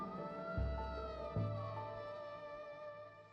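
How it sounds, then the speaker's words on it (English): An ambulance siren blares in a dramatized story, a loud wavering wail with layered tones, joined by a couple of low thumps, sounding alone without speech. "Despite the sound of the blaring siren, Gina could barely keep her eyes open,"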